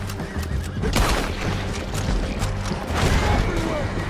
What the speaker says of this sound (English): Lance, men on horses!